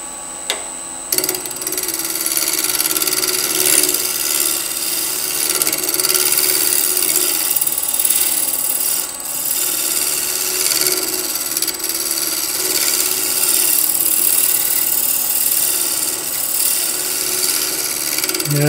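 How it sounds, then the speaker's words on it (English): A wood lathe spins a turned wooden salt cellar while a tool scrapes it, giving a steady close whirring hum with a continuous rasping scrape and faint mechanical ticking throughout. "I'm going to just scrape that a bit and clean it up"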